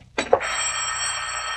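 In an old radio drama, a telephone bell starts ringing after a brief knock, then holds one continuous bright metallic trill, loud and close, with no voices over it.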